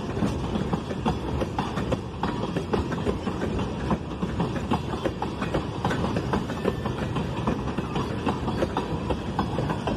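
A freight train carrying a grain load rolls past with a continuous rumble of cars and rhythmic clickety-clack from the wheels, steady and fairly close throughout, with no voices.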